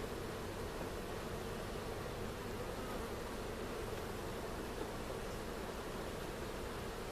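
Honey bees buzz steadily around an open hive with a new queen, a dense, continuous drone that stays even and close throughout with no talking.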